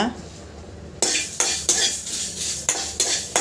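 Fenugreek seeds and dried red chillies dry roasted in a pan, with a spoon repeatedly scraping and clinking against the metal in uneven strokes over a faint background hiss.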